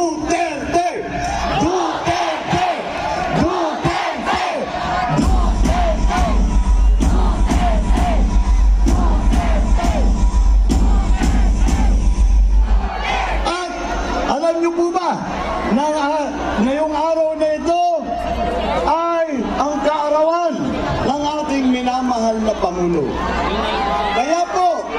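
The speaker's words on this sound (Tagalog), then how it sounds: "Alam niyo na po yung sigaw, sinisigaw natin ito mula noong 2016, our vice president, Duterte!" Large political rally crowd in the Philippines shouting a loud, rhythmic chant for the vice president in repeated bursts, the massed voices filling the space and then shifting into sung chanting.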